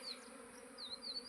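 A small honey bee swarm buzzes around an outdoor bee box, a faint continuous hum with individual bees zipping past close by.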